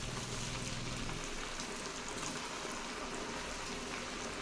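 Rice flour snacks sizzling in hot oil while deep frying, a steady soft crackling hiss with fine bubbling, close and continuous without talk.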